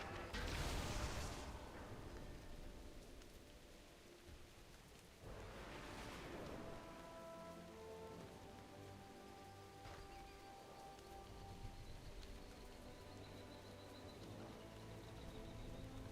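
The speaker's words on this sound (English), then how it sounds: "It's raining in Dornogal." Steady rain falling in Dornogal in World of Warcraft, a soft continuous patter with a couple of brief louder splashes near the start, no voices.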